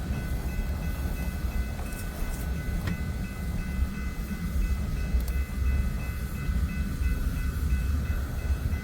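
A BNSF freight train led by an SD70M locomotive rumbles steadily past near Omaha with a continuous low roar, metallic squeals and a faint horn-like tone held throughout.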